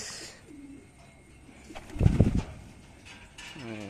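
Racing pigeons returning home from road training coo softly at close range, with a clattering burst of wings or loft gear in the middle and low bird calls around it, and no one talking.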